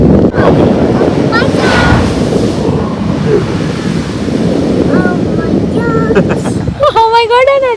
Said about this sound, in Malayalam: നല്ല വേവ്സ് വന്നാൽ ഞങ്ങൾ പൊന്തി ഇങ്ങോട്ടേക്ക് വരും വെള്ളം.